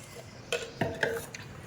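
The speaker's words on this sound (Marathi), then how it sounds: "अशाच प्रकारे सर्व कांदा चॉप करून घेणार आहे मी" Onion being chopped with a knife on a cutting board for tomato chutney, giving several distinct sharp knocks spaced about a quarter second apart, close and fairly quiet with no talking.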